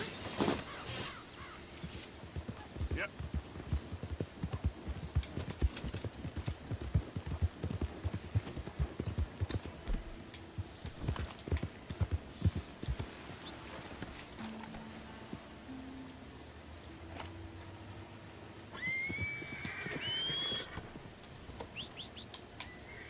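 A horse in the Red Dead Redemption 2 video game walks with a steady clip-clop of hooves through the first half, then the steps fade into quieter ambience with crow caws and bird calls nearby.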